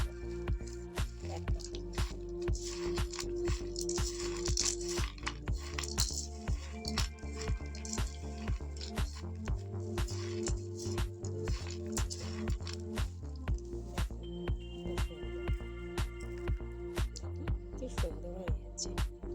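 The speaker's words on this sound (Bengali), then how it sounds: "এখানে আমার সমস্ত মশলা দেওয়া কমপ্লিট, তো এটাকে আমি এবারে ভালো করে হাত দিয়ে মাখিয়ে নেব।" Spiced sago being kneaded and mixed by hand, giving repeated soft squishing and wet sticky sounds with occasional light clinks, close and steady throughout.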